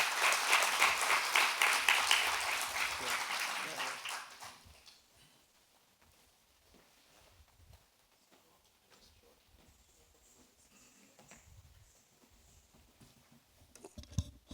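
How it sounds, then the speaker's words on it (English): A crowd gathered for the opening of a university business school in Trinidad and Tobago gives a speaker a lively round of clapping for about four seconds, which then fades into a quiet room with only scattered small noises. "let us give a hearty round of applause, a Trinidad and Tobago round of applause for Professor Tan"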